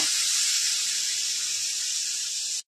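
A small splash of water hits a hot pan of simmering radish, eggplant and fish curry, giving a steady loud hiss that holds evenly for a couple of seconds before cutting off abruptly.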